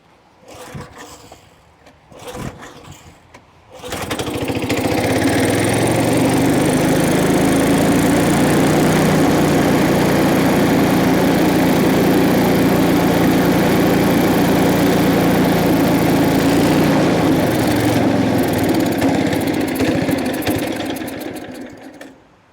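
An old Lazy Boy riding mower engine, being started for the first time in decades, catches after a few brief attempts and then runs loud and steady with a rough, buzzing drone before winding down at the end.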